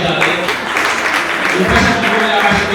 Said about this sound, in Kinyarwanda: Mufashe gukomera amashyi